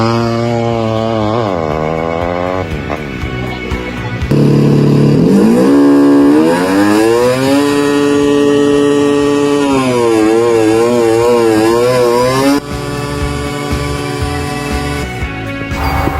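A small engine, likely a modified motorcycle or power-tool motor, is revved hard to full RPM, its loud buzzing howl climbing and wavering in pitch through sustained high revs before dropping back, with no talk over it.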